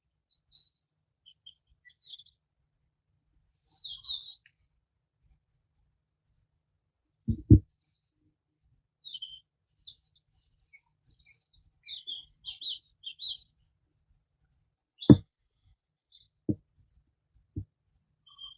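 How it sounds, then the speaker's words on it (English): Birds sing outdoors in the New Forest at Ashurst, with scattered high chirps and short song phrases spread across a quiet background, joined by a few sharp low knocks or thumps. "right now, down this moment, I've even got birds singing."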